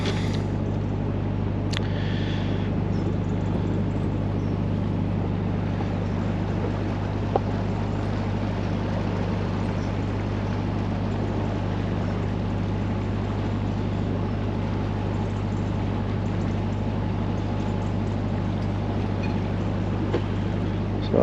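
Boat engine running steadily on the Norfolk Broads, a loud continuous low drone with a constant hum that persists unchanged throughout, with faint water and wind noise and a brief knock or clatter early on.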